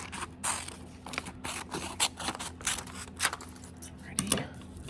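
Scissors snipping through felt for an ornament pattern, a close run of irregular crisp cuts and scrapes with short pauses between strokes.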